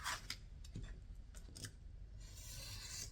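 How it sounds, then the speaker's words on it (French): Utility knife slicing around the edge of a cardboard jewelry box, a faint close scratchy rasp of blade drawing through card in short strokes, followed by a steadier scraping drag, with no talk. "je coupe autour sans manger le carton"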